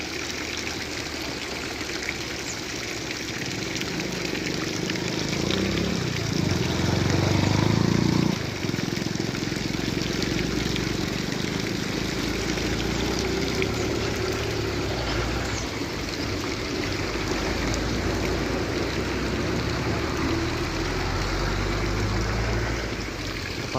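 Water gushes steadily out of a reservoir, a broad continuous rushing that stays loud and even throughout, with a brief heavier surge partway through and no voices.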